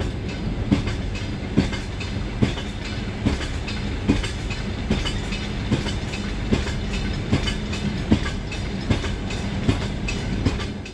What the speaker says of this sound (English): The train arrives at Unaha station.